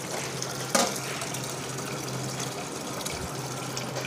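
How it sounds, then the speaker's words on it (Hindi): Water being poured into a water dispenser during cleaning, a steady continuous splashing fill with one brief louder knock near the start, close and fairly loud. "दोबारा पानी भरना है यहाँ पर।"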